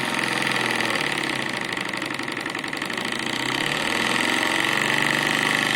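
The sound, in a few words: low-pressure compound model steam engine running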